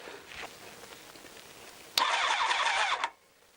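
A Honda CBR1000F motorcycle engine cranks over on the electric starter, a loud whirring churn lasting about a second after a quiet lead-in, then cutting off abruptly without firing.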